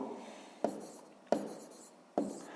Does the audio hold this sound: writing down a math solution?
yes